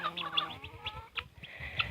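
Chickens and guinea fowl on a dry farmyard give soft, scattered clucks and short calls, close and moderately loud, with a few higher squawks over light outdoor background.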